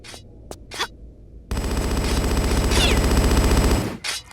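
A sentry gun in a Tomb Raider level editor game fires a loud, sustained rapid burst lasting a couple of seconds, preceded and followed by brief footsteps and game noises.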